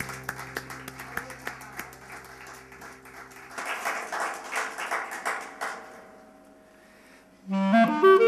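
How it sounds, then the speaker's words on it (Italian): Applause for violinist Luca Verducci after a Cavallini Capriccio on an Italian TV music show, a steady patter of clapping for several seconds, fading, then a loud burst of music near the end. "Un applauso."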